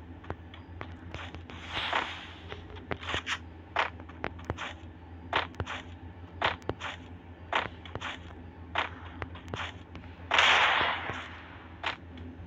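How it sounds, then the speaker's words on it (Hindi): Explosions and sharp cracks from a bombardment in the mobile game Free Fire, a steady string of snappy blasts with two heavier bursts, played fairly faint over a constant background hum. "ये बमबारी क्या कर रही है"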